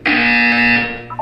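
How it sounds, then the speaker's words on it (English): A buzzer in the Portal 2 video game sounds once: a steady, loud, harmonically rich electronic tone holds for about a second, then cuts off with a short trailing blip. "You will hear a buzzer."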